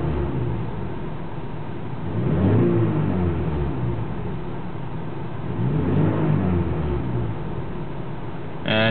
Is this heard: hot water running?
no